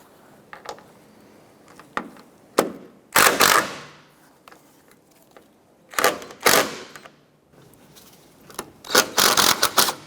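A power tool removes the strut nut from a 2006–2013 Chevrolet Impala, firing several loud, rattling bursts separated by short pauses, with scattered clicks in between.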